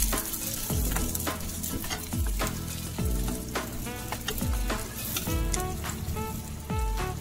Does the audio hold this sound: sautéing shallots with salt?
yes